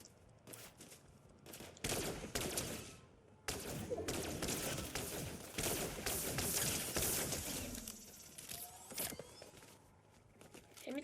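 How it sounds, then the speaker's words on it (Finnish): Bursts of gunfire in Fortnite, several clustered volleys of rapid shots that come and go over a quieter game background, fairly loud against the ambient sound. "Ja kuka mua ampuu?"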